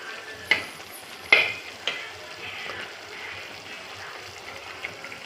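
Crab curry is stirred in a pan of masala gravy, with a few sharp scrapes and knocks of the spoon over a soft, continuous sizzle.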